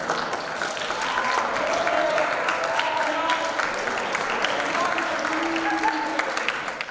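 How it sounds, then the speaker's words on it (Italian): Sustained applause and cheering from a crowd of high school students at an Italian liceo, steady and dense throughout, with faint voices mixed in. "è stato accolto da tifo e applausi,"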